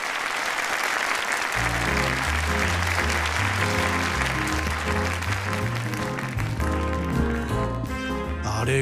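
Sustained clapping from a cabaret crowd in Yakuza 0 fills the scene, steady and dense, while a low, rhythmic music bed plays underneath.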